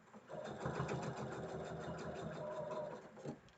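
Sewing machine stitching a quilt block, a steady rapid mechanical chatter of the needle running continuously at close range.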